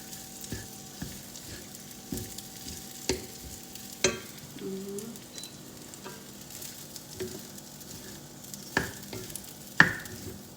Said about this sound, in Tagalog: Gawa tayo ng ating fried rice